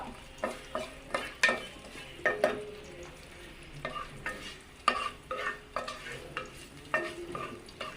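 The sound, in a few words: garlic cloves frying and being stirred in a pan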